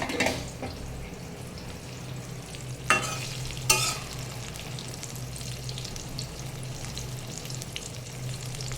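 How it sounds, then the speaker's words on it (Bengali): Eggplant frying in oil in a pan, a steady soft sizzle throughout, broken by two sharp clatters from stirring or turning the pieces. "দেখুন বেগুন ভাজিটা কিন্তু প্রায় হয়ে গেছে"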